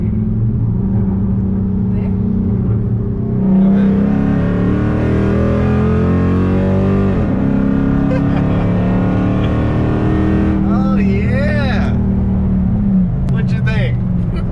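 A 500hp SRT muscle car revs and accelerates hard on the road, its loud engine drone rising and falling in steady sweeps with brief gear-change dips, while people talk inside the car.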